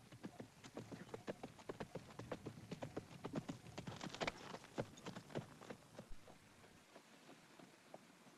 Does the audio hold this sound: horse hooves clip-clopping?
yes